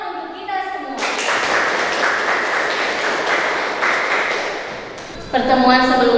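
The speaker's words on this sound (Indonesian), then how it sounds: "Ya, tepuk tangan untuk kita semua." A classroom of schoolchildren claps together in steady, dense applause that continues for several seconds, with children's voices heard before and after the clapping.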